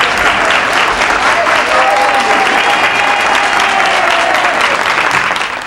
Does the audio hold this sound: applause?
yes